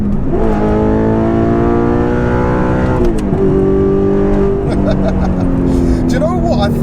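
A tuned Audi R8 with a manual V8 revs loudly and climbs through the gears up close, its pitch rising and dropping at shifts, with voices talking over the engine.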